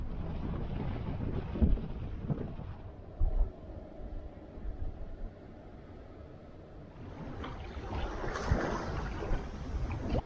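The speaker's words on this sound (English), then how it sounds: "the wind has kicked up now, and I'm cruising along at a real nice pace" Steady wind buffeting the microphone aboard a sailboat under way along the Baja coast, with rushing water and gusty rumble throughout.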